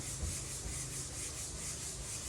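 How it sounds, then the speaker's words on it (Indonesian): Steady, close rasping of 150-grit sandpaper rubbed back and forth on a car body, continuous and even without pauses. "Dan untuk amplas kita menggunakan amplas 150 ya teman-teman."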